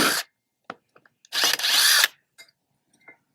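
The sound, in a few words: 3/8 impact wrench on Kawasaki engine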